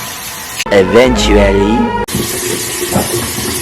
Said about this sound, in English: I'm sure you can hear the water flow